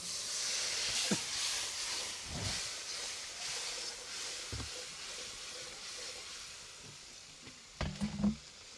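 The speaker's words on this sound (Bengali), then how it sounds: "সরিষা একদম দেশি সরিষার তৈল দিয়া সুন্দরবনের কোরাল মাছ রান্না" Coral fish from the Sundarbans sizzles as it cooks in local deshi mustard oil, a steady hissing fry with a few soft knocks and clatters near the end. Nobody speaks.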